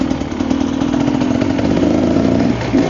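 Reiju 300 MR motorcycle engine running close by, a loud steady mid-pitched drone with a rough pulsing texture and a slight rev near the end.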